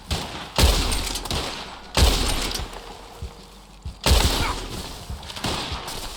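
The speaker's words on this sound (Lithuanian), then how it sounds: "šaudo" Bursts of gunfire in a video game train heist, three loud volleys of rapid shots each trailing off into scattered shots and impacts, close and dominant throughout.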